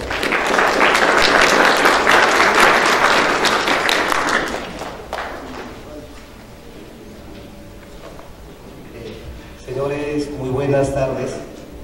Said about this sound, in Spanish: Le vamos a dar la bienvenida esta tarde con un fuerte voto de aplausos.